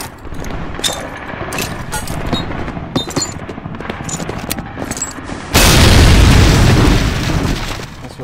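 In the Medal of Honor: Allied Assault video game, scattered gunfire pops and bursts lead up to a frag grenade explosion, a sudden loud, broad blast that booms and lingers to the end.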